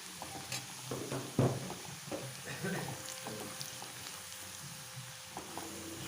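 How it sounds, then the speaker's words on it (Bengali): Onions fry in a pan for Bengali katla fish kalia, a steady close sizzle with intermittent scraping stirs and utensil knocks, one louder clatter early on. "পেঁয়াজটাকে খুব লাল লাল করে ভেজে নেব।"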